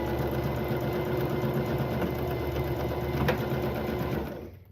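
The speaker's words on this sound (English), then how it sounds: "I'm just doing a straight stitch on these" Sewing machine running a straight stitch through denim-like fabric with a universal needle, a steady close mechanical whir at a constant pace that winds down and stops just before the end.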